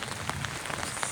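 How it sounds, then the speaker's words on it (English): Rain falling on a tent at a campsite during a canoe camping trip in the Ozarks, a close, dense pattering with scattered sharper drops, heard alone without speech. "It's been raining nonstop."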